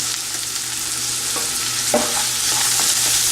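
Garlic sautéing in a pan for a fried fish curry, a steady close sizzle with a few soft stirring knocks and scrapes, no voices.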